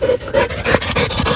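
A dog pants close by in quick, rhythmic breaths, each short huff following the last at an even pace and fairly loud, with no talking.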